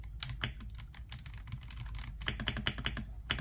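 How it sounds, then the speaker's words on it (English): Continuous typing on a weighty, sturdy RK Royal Kludge mechanical keyboard, with rapid overlapping keystroke clicks close up and a steady rhythm that grows busier toward the end, without any speech. "It's very weighty, very like sturdy keyboard. Like, feels very nice to type."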